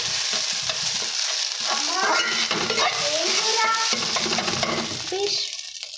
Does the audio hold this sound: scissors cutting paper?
no